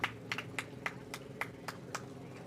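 Hooves of quarter horses clip-clop on pavement in a July 4th parade in Muscatine, a steady run of sharp, evenly spaced knocks over faint crowd murmur.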